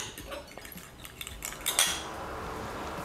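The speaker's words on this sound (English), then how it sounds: "So whisk that egg." An egg is whisked with a utensil against a bowl while making a Jamaican curry chicken pot pie. Quick, light clinks and taps build into a brief flurry, fairly quiet and close.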